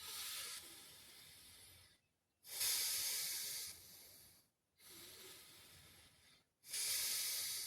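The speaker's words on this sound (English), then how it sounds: "And then we're just going to take a normal breath" Slow, deep breathing during a beginner pranayama session, close airy inhales and exhales in long hissing waves separated by short silent pauses, with no talking.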